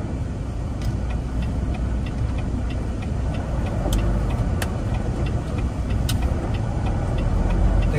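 A car driving along a city street in Montreal, Quebec, with a steady low engine and road rumble throughout, joined by faint recurring ticks like a turn signal clicking.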